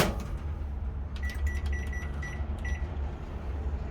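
A steady low hum of a running microwave oven heating potting soil, with a few faint high electronic beeps briefly in the middle.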